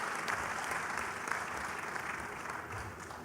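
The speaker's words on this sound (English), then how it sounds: "that deserves a round of applause" Audience applause fills a cultural dialogue event at a Pravasi Bharatiya Divas diaspora gathering, steady dense clapping sustained evenly throughout at moderate loudness with no voices over it.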